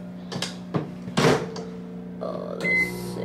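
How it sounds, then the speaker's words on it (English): A microwave oven runs to heat meat, its steady hum broken by clicks and knocks of the door and buttons, then a short beep near the end, all close by with no talk. "I'm gonna come over to this other microwave and heat up my meat"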